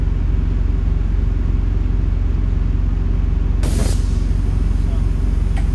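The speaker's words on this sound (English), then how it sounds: "jacking the truck up, getting ready to take the tire off." A Freightliner Cascadia truck is jacked up at a tire shop to remove a tire, steady loud engine or compressor rumble throughout, with a sharp hissing burst of air partway through.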